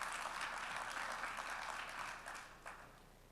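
A church audience applauds softly for a few seconds, a diffuse wash of clapping that fades toward the end.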